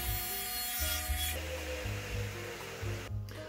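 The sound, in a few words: radial arm saw cutting PVC pipe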